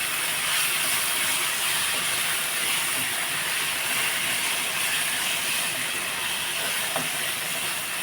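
Ivy gourd curry simmering in a pan, a steady broadband hiss and bubbling that continues evenly throughout, close and fairly loud, with no voices.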